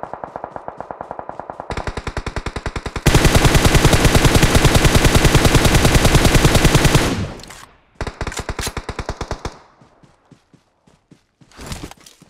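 An M249 machine gun fires in the mobile battle royale game PUBG Mobile, loud rapid bursts with one long sustained stream of automatic fire, then shorter broken bursts and scattered shots toward the end.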